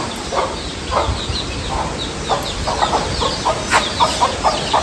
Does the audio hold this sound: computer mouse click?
no